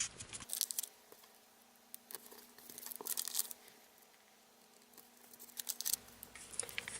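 Adhesive backing peeled off a sticker sheet run through a Xyron machine, heard as several crackly tearing and crinkling bursts between quieter stretches, close and moderately loud with no talking.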